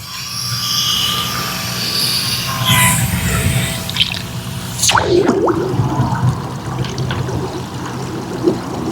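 A repaired garden pond pump keeps water bubbling and trickling in a koi pond, a steady close wash of splashing with occasional louder gurgles and drips throughout.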